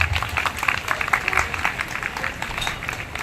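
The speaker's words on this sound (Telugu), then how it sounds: "దానికి మనమందరము సార్కి ఒక బిగ్ రౌండ్ ఆఫ్ అప్లాజ్ ఇవ్వాలి" An audience at a school's 16th anniversary celebration in Gajwel, Siddipet, applauds the teacher, a steady patter of many hands clapping at moderate distance, with no talk over it.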